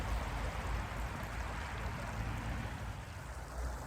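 A brook runs beside a roadside stop, its water rushing in a steady, unbroken wash that stays fairly loud and even throughout, with no voices.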